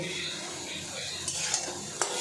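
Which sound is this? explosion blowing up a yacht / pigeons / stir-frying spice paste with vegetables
stir-frying spice paste with vegetables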